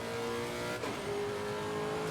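Lexus race car in the Assetto Corsa Competizione video game, its engine giving a steady, high howl at near-constant revs, heard on its own at moderate volume.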